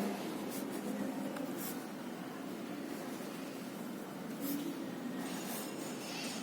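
Chalk or marker strokes draw parallel planes on a classroom board during a solid-state physics lecture, heard as continuous scratchy scraping against a steady room hum, with no talking.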